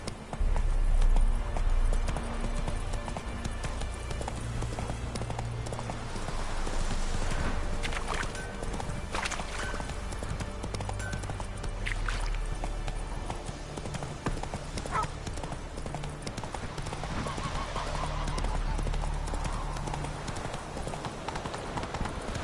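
Video game horse Roach galloping, a rapid rhythmic clip-clop of hooves that stays close and loud throughout, with snorts and a whinny over an ambient game soundscape.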